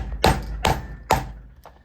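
Three sharp, heavy hammer strikes on a snap setter land at an even pace, close and solid, followed by a lighter tap, while setting snaps on a leather belt.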